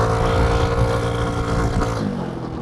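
Honda 150cc scooter converted to run on skis over water, its engine droning steadily at full throttle, with motor and water noise close by.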